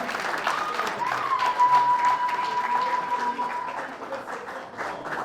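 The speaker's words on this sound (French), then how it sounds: "Vos applaudissements." An audience at a celebration marking a year at the head of the Gabonese press agency AGP bursts into applause, dense steady clapping with a murmuring crowd and a sustained tone beneath it, lasting throughout.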